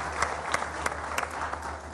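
Studio audience applause on a Pakistani television iftar show, a brief steady burst of clapping with a few sharper claps standing out, moderately loud under a low background hum.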